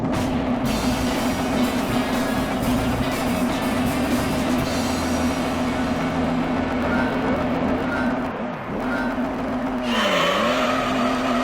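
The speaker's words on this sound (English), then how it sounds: "I got wheel spin off the start because, well, obviously this thing is rear-wheel drive." Rear-wheel-drive touring car in Gran Turismo 3 at a race start on the Midfield circuit, engine droning loud and steady with a sustained whine, its pitch dipping near the end as wheels spin up.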